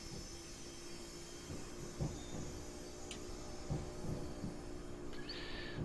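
A Class 377 electric multiple unit pulls in alongside a stopped Class 319 in Train Simulator Classic: a steady low rumble and hiss of rolling stock with rhythmic wheel thumps, a brief high squeal and a late hissing burst.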